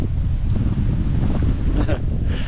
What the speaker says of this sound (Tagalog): Kaya lang mahangin din eh.